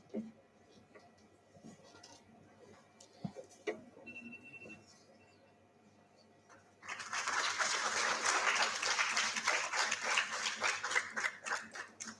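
Audience applause at an industry conference, starting suddenly partway through and holding as a dense, loud, sustained wash of clapping after a quieter stretch of room noise.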